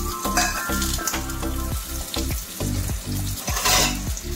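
Whole spices, bay leaves, cashews, raisins and peas frying in a wok of ghee and refined oil, a loud steady sizzle with repeated stirring scrapes, close and continuous.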